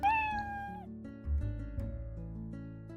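A cat sound effect in a children's animated story: a clear, close meow with a falling pitch, followed by soft music with no talking.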